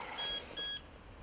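A carp fishing bite alarm gives two short electronic beeps at 2 o'clock in the morning, faint over a steady hiss of outdoor background noise.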